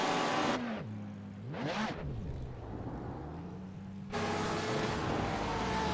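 A race car in the iRacing Le Mans Series at Circuit of the Americas reversing after a spin: a close engine drone that dips and swells in pitch as revs change, then surges back to a loud, bright roar as it pulls away.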